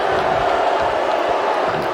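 A wrestling arena crowd jeers and boos a wrestler named Oliver, a steady loud wash of massed voices filling the hall without pause.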